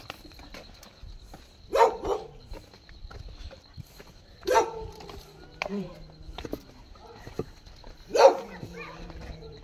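A dog named Sky, being carried before a bath, gives a few scattered barks at roughly even intervals, moderately close in a quiet indoor space with faint shuffling between them.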